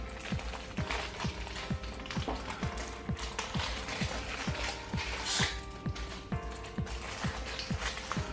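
Antennas being screwed onto a Zidoo X10 TV box, a close series of quick ratcheting clicks repeating at an even pace over several seconds, fairly quiet, with no talk.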